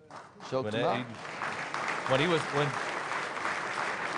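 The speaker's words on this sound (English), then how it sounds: "And a big round of applause for" Sustained applause from a crowd at an Army combatives tournament fills the clip, with a voice talking over it twice.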